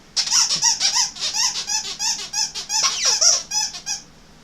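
Six-week-old puppies chew skinny, stuffing-free dog toys packed with many squeakers, producing a rapid string of loud, close, high-pitched squeaks in irregular bursts before stopping.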